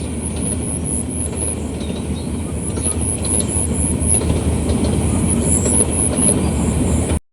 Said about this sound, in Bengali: ট্রেনটা বিরাট স্পিডে যাইতেছে